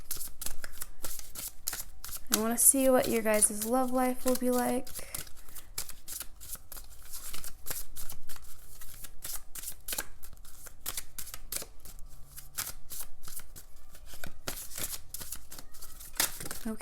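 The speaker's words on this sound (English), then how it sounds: "Let me shuffle some cards." Tarot cards are shuffled repeatedly in quick, crisp riffles and slides, the light papery flutters running close throughout while someone speaks softly over them.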